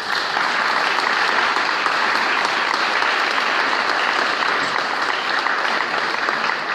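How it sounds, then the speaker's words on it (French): A municipal council meeting audience applauds the town's staff with sustained, even clapping from many hands that holds at a constant loudness without pause. "Je voudrais qu'on remercie vraiment tout le personnel communal et qu'on les applaudisse."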